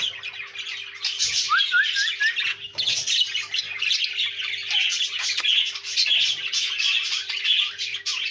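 Caged pet birds chirp and squawk in a busy, continuous chorus, with bright overlapping calls and a short rising whistle, heard close with no talking.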